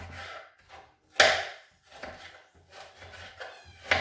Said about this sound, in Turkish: Ondan sonra soğan doğrayayım.